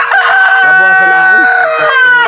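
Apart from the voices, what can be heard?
rooster crowing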